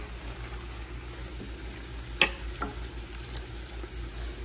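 Ingredients seasoned with turmeric and salt fry in a pan with a steady, moderate sizzle throughout, broken by a sharp click and a softer clatter of utensil against the pan.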